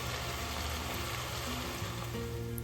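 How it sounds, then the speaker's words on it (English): Minced meat with fresh onion and diced carrots sautéing in a pot, a steady close hiss and sizzle filling the short stretch without pause, no voices. "Sauté the mix until tender."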